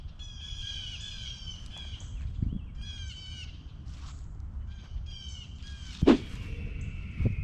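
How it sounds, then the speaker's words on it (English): Birds, including a hawk, call outdoors around a backyard dirt bike track, with repeated high, harsh cries in short bursts at a moderate distance over low rumbling background noise and one sharp thump. "Y'all hear that Atlanta hawk?"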